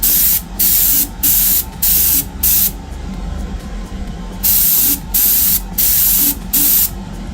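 An airbrush lays base coat on Greek-style vases in loud, close hissing bursts of about half a second each. The bursts repeat at a steady rhythm, with one longer continuous spray in the middle.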